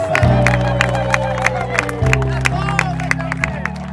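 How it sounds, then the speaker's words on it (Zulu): Clapping rings out at a traditional Zulu umembeso wedding ceremony, steady rhythmic claps with sharp accents, heard close over sustained music tones and background voices. "Asishaye ihlombe elikhulu bazalwane wami."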